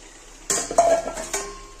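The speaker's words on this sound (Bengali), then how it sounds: "দেখো মশলাটা কষানো হয়ে গেছে, এবার আমি না মাছটা দিয়ে দেব।" Pieces of lotte fish go into a pan of fried spice paste, giving a few sharp clinks and clatters of utensil on metal with a brief sizzle, close, with no talking.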